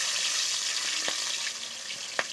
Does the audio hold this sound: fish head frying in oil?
yes